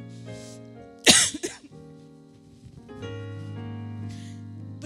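A sharp, harsh cough followed by a couple of smaller coughs, set against soft sustained background music.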